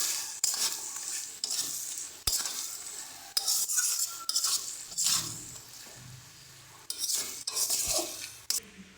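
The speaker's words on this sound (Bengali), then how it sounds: "গরম মশলা দিয়ে হালকা একটু নাড়িয়ে চাড়িয়ে এটাকে আমরা নামিয়ে নেবো" Stirring fish head and cabbage curry with garam masala in a pan, a run of scraping, clinking strokes of a spoon against metal over soft sizzling, close and fairly loud, with brief pauses between strokes.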